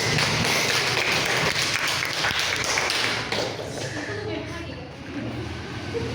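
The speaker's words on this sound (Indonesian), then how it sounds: "berikan tepuk tangan yang meriah kepada Dewan Juri" Clapping for the jury panel at a university Pancasila education class project session, a burst of applause that is strongest at first and then thins out, with voices mingling beneath it.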